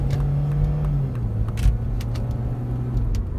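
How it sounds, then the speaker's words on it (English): Engine hum of a Saab 9-3 with a manual gearbox during a third-to-second downshift, steady low drone with a slight pitch change and a brief bump midway, heard from inside the car. "when I try and downshift from third to second here, watch the lag"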